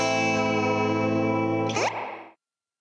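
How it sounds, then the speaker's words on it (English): Electric guitar played through a Fender Super-Sonic tube amp with a long-pan, tube-driven spring reverb: a sustained distorted chord rings out, then a sharp crashing spring splash near the end before it cuts to silence. "That's a full long spring reverb pan and tube driven, as with the old blackface amps."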